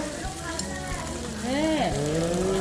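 Pork grilling over an oak wood fire, a steady crackling sizzle that runs the whole time. Voices talk over it, and near the middle there are a few brief tonal squeaks.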